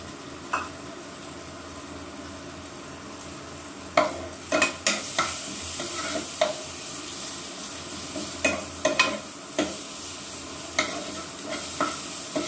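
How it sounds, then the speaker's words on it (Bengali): Garlic and onion fry in hot oil with five-spice as a tempering for dal, giving a steady close sizzle broken by repeated scraping stirs of a spoon against the pan. "একটু রসুন আর পেঁয়াজ ফোড়ন, 5 ফোড়ন দিয়ে একটু হালকা করে ডালটা বানাবো।"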